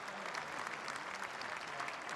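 A crowd at a boys' state basketball championship gives a student honoree a sustained round of applause, dense and even throughout with no voices standing out.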